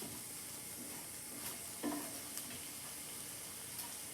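Browning crumbly ground meat in a frying pan, with a faint, steady sizzle and a few soft scrapes and taps from stirring, quiet and close.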